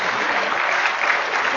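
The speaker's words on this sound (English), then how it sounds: "Give him a round of applause." An audience applauds a participant's question at a National Knowledge Network session with Dinesh Singh, a dense, steady burst of many hands clapping at close range with no pauses.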